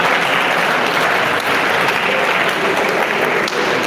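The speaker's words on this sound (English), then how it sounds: "So let's give him a round of applause for that." A training-event audience gives a dense, steady round of applause that holds at full strength for the whole stretch, with no talk over it.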